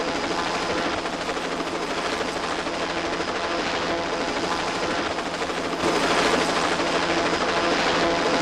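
A helicopter takes off with a steady, loud broadband rotor and engine roar that holds throughout, growing slightly louder and brighter toward the end, with no clear talk over it.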